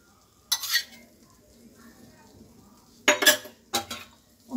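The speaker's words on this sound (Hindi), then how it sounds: "और चमचे से घुमाएंगे," A spoon stirs boiled milk in a pot as lemon juice goes in for rasgulla, giving three short metallic scraping bursts against the pot amid quiet pauses.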